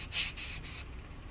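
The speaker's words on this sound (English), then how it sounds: "So take your canned air and you can see it's already significantly cleaner." Canned air blasts in three short hissing bursts at a Glowforge laser cutter's fan, each spray loud and close, followed by quiet.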